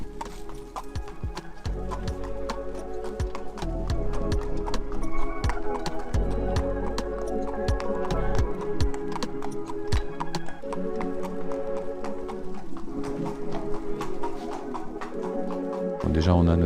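Horse hooves clip-clop in a steady sharp rhythm on hard ground during preparation for a qualifying race, close and clear, with people talking in French and birds faintly in the background.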